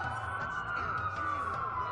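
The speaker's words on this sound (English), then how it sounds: "That's a lot of sirens for a blackout." A police siren in the video game Watch Dogs wails steadily and fairly loudly throughout, with a low rumble beneath it.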